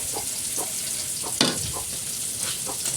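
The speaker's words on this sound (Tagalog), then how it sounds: "Haluin natin konti." Pork dinuguan with chayote stirred in a pan, a steady close sizzle with soft periodic scraping strokes and one louder clatter midway.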